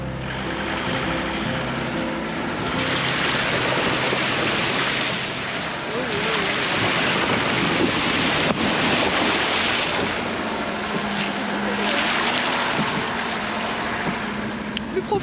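A VW T4 van ploughs through deep water on a rough track, giving a continuous loud rushing and sloshing wash with wind buffeting the microphone.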